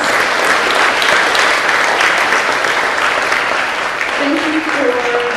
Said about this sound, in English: Would you please give our judges a nice round of applause?